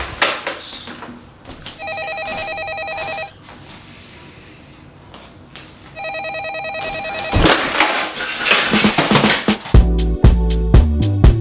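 A landline telephone in a film scene rings in two electronic bursts separated by a quiet gap. A louder scene follows with a jumble of noise and sharp, low, thudding hits toward the end.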